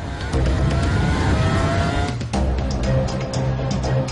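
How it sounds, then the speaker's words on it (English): A Formula 1 car runs on a factory test rig, its engine howling loud and constant with a brief dip mid-way before resuming at high pitch. "The car runs its first meters on the test rig."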